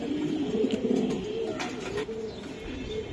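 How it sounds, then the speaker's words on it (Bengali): Low, rolling coos of racing pigeons in a loft repeat close by, layered over one another in a steady murmur against a faint background hiss. "চমৎকার গেটআপের কবুতর ভাই।"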